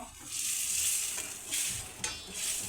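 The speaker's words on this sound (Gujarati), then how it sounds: "થોડુંક તેમાં પાણી હલાવી નાખશો પછી મિક્સ કરી દેવાનો" Water being stirred into a ragda mixture in a pan while cooking, soft wet scraping swirls with a gentle sizzle, rising and falling in a few slow strokes, close and fairly quiet.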